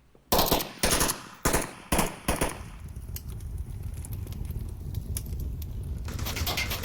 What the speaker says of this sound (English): Boca finds Verds on the roof. Good shots